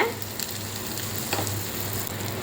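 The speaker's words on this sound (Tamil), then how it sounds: "கொஞ்சம் பெருங்காயத்தூள் சேர்த்திக்கலாங்க." Asafoetida powder sizzles in hot tempering oil with mustard seeds and dried red chilies, a continuous close frying hiss with occasional soft stirring scrapes.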